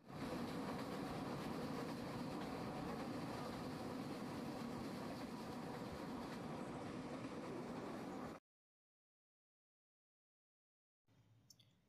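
A passenger train running on the Howrah to Chennai route gives a steady rumbling roar for about eight seconds, then cuts to near silence with faint noise returning at the end.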